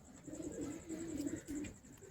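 A female pigeon coos softly in low, rolling phrases, three or four murmuring bursts close by against a faint background hum.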